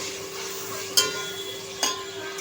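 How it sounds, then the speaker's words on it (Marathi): Tomatoes with curry leaves sautéing in a pan for a Maharashtrian prawn curry, a soft steady sizzle with two brief clinks of a spoon stirring, no talking. "हे पहा, आपला टोमॅटो परततोय"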